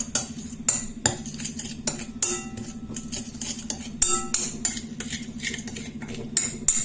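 A utensil scrapes and taps in a pan while turmeric, paprika and ginger are mixed for a fish tagine, giving repeated sharp clinks and scrapes at an irregular rhythm, close and clear over a low steady hum.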